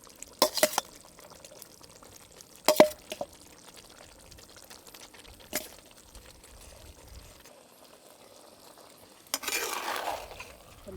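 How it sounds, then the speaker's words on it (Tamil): Rice cooked from half a kilo of home rice being mixed with chicken masala in a village clay pot, giving scattered scraping and clattering stirs with a few sharper knocks and a louder rustling burst near the end. "சாப்பாடு அந்த மசாலாவை போட்டு நல்லா மிக்ஸ் பண்ணணும்"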